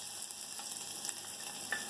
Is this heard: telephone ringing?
no